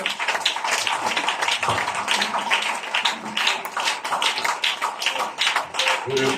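A church congregation claps and applauds in praise, a dense, loud, continuous wash of hand claps filling the room, with voices faintly mixed underneath.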